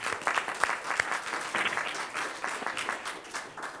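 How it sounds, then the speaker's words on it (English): A conference audience applauds after a talk on the economy of well-being, a steady, dense patter of many hands clapping for a few seconds at moderate loudness. "I think we can give her applause."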